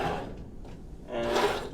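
A drawer in a Norwegian Sky ocean view cruise cabin slides open with a short wooden scrape and rumble, close by and fairly quiet, with no talking.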